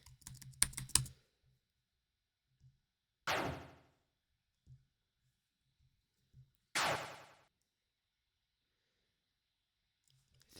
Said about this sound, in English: Moving all the arrow keys and nothing.